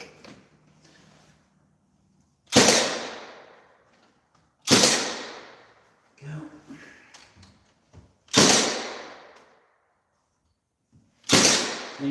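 A nail gun fires while fixing poly trim during a repair job, with four sharp separate shots a few seconds apart. Each shot is a loud crack that decays quickly into quiet.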